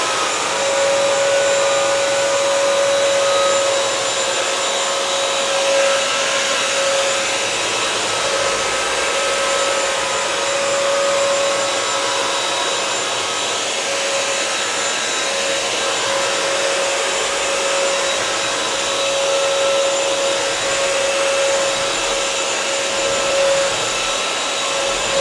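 A Bissell Crosswave Pet Pro wet-dry vacuum runs steadily and loudly throughout as it cleans a liquid mess from a hardwood floor, with a constant motor whine and no talking.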